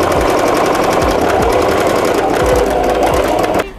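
A sewing machine runs steadily, stitching along the edge of a canvas crossbody bag, a loud continuous mechanical whir with rapid needle pulses that stops abruptly near the end.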